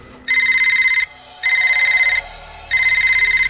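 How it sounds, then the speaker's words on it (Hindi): A telephone rings three times in a regular electronic pattern, each ring about a second long with short pauses between, loud and close, with no voices. "उसका फोन बजा"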